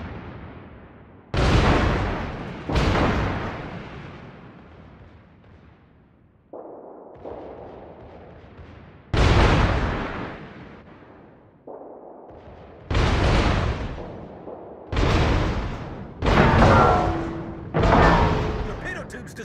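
Secondary guns of the battleships Tirpitz and Lutjens firing in the naval combat game World of Warships, as a series of loud booming salvos, some spaced out and others coming in quick succession, each followed by a rolling decay.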